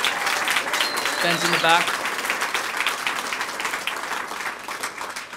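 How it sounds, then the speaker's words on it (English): Audience applause at a sports team's press conference fills the room steadily, with a voice briefly speaking over the clapping. "Big round of applause"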